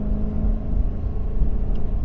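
A Ford pickup with a 7.3 Godzilla V8 accelerates while towing a trailer, giving a loud, steady low engine rumble and drone that builds slightly as it pulls.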